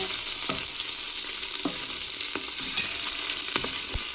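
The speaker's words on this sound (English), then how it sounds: "that's a loud sizzle too" Loud, steady sizzle of chicken browning in a hot pan, with occasional soft clicks and scrapes at irregular intervals.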